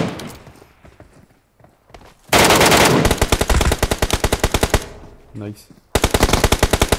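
Automatic gunfire in PUBG Mobile's Metro Royale mode, loud rapid bursts of shots in several strings with brief pauses between, close up, and a player's voice speaking briefly over the action.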